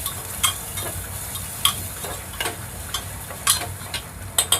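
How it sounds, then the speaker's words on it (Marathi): Unpeeled potatoes roasting in a pan over medium heat, stirred with a utensil that scrapes and clinks at irregular intervals over a soft, steady sizzle; nearby and moderate in level, with nobody talking. "आता बटाटे जे मी सालीसकटच घेतल्यात त्या ह्याच्यात घालून घेऊया, म्हणजे फिरून घेऊया"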